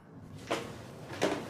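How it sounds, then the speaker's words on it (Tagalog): A door creaks open inside an abandoned mansion, two short scraping bursts about a second apart, close by and fairly quiet against a hushed room. "Naririnig ko ang ingay na ito, ang pagbubukas ng pinto."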